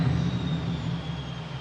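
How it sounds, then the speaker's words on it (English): An F-15 Eagle jet in Microsoft Flight Simulator roars steadily with a deep low rumble and a high whining tone, sustained and loud throughout the short moment with no voices. "Yep, definitely aircraft there."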